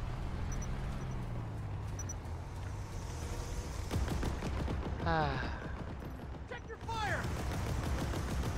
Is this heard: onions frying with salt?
no